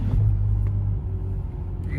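A Lamborghini Huracan or Ferrari SF90 Stradale supercar engine, close and loud, giving a deep revving rumble that swells briefly then settles to a lower idle-like drone.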